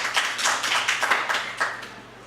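Audience at a session applauding briefly, a scattered patter of hand claps lasting about two seconds with no one talking, tapering off at the end.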